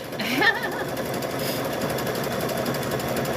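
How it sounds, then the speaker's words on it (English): A sewing machine stitching rope for a wall hanging produces a rapid, even mechanical whir that runs steadily throughout, close by, with a brief louder burst near the start. "I notice when I sew rope, I have to clean your machine more often"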